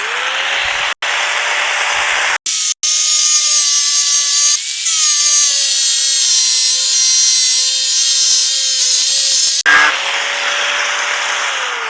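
A cutting wheel slices a short piece, about 3.5 inches long, from a scrap metal bar for a homemade garden hand cultivator. It gives a loud, steady high-pitched grinding whine for several seconds, briefly broken by short pauses.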